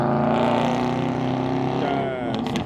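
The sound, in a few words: car passing by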